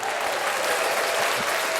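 A crowd bursts into steady, dense applause that holds at an even level throughout, with no single clap standing out, as a new coach is welcomed onto a podcast.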